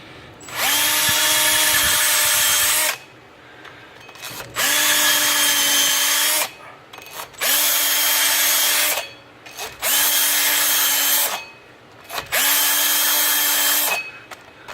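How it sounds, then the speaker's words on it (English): A 3M hub cleaning tool spins on a drill against a rusted front wheel hub of a GMC Acadia, in five loud bursts of whirring grind separated by short pauses. "got this little guy here, a little 3M tool for cleaning up the hubs. Just run this on."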